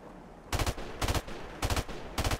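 Gunfire in the video game Modern Warfare Remastered comes in four short, loud bursts of rapid shots with brief gaps between them, up close and with no talking.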